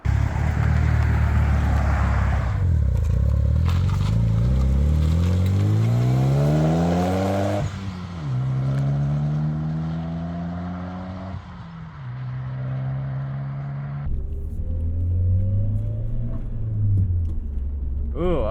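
A 1998 Eagle Talon TSi with an HKS exhaust revs through repeated climbing pulls, engine pitch rising and dropping between gear shifts, loud and close from the cabin, with occasional speech over it.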